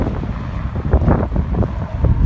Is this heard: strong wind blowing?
yes